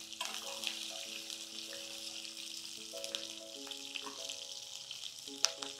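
Large-cut green chillies frying in oil for Kurnool-style uggani, a soft, continuous hiss and crackle heard close but fairly quiet, with a few louder pops and a steady tonal background sound running underneath.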